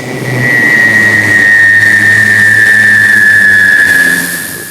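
At an inauguration event, a voice imitates an airplane landing with a loud, sustained droning whoosh that swells in and holds steady for about four seconds before fading slightly.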